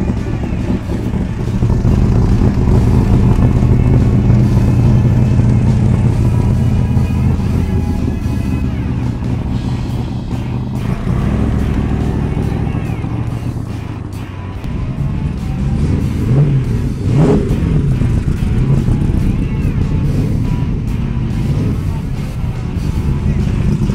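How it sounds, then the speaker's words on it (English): Loud, close classic racing car engines rumble and rev as the cars pull away, the roar rising and falling with a deep throaty drone throughout. "So now it's time to listen to these engines roar as they're pulling out."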